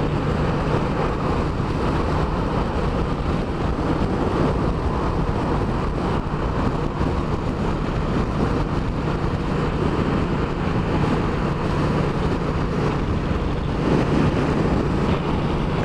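Heavy, constant wind of about 25 mph roars and buffets against the microphone while riding a Triumph Street Cup motorcycle, a thick rushing noise with a low engine drone underneath, no voices.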